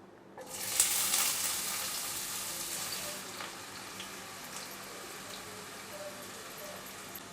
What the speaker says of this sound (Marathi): चला आता आपलं तेल तापलेलं आहे तर आता काय करूया कांदा घालूया